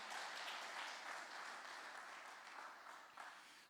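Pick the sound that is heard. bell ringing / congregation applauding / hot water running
congregation applauding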